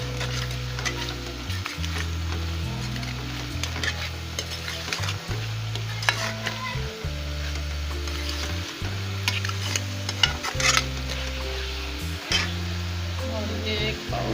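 Food fries in a pan as salt and red chili are added for a bitter gourd and chana dal dish. Continuous sizzling runs with frequent crisp crackles, under steady background music.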